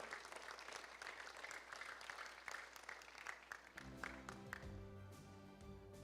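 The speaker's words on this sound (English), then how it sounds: "Let's give a round of applause for Ricardo Westby." Audience applause at a church healing and salvation service, a steady wash of clapping that runs continuously, with organ or keyboard chords entering partway through.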